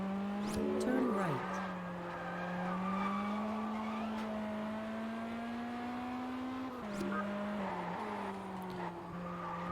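In the Test Drive Unlimited racing game, a car engine hums steadily while tires squeal and skid, heard fairly quietly with a gliding engine pitch and brief clicks.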